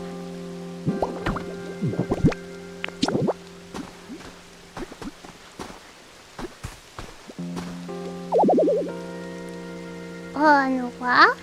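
Rain from a rain dance in the Pokopia video game patters as scattered light drips and splashes, mixed with chiming musical tones and brief cute creature calls, fairly quiet overall.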